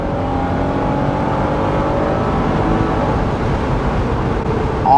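An Acura NSX with an automatic transmission accelerates hard, its engine drone rising steadily in pitch and staying loud and close throughout, with no talking.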